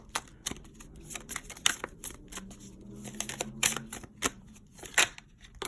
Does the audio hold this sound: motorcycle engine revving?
no